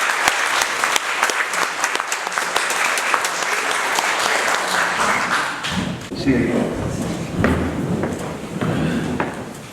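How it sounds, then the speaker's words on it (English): A crowd applauds continuously for veterans at a Veterans Day event, many hands clapping at close range, with a few thumps and some voices mixed in toward the end. "Please give them a round of applause."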